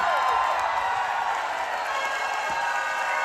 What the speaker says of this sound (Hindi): जोरदार तालियां मंगल भाई के लिए।